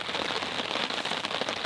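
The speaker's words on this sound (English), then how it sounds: "Rainy day." Steady rain falls on surfaces at a wilderness campsite in the boreal forest, a dense, continuous patter close by with no voices.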